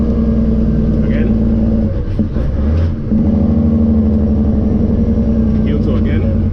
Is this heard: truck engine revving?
yes